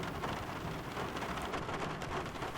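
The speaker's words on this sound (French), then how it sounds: "Un après-midi, un orage éclata brusquement." A sound-effect thunderstorm plays with steady heavy rain and a low rumble of thunder underneath, dense and continuous with no voices.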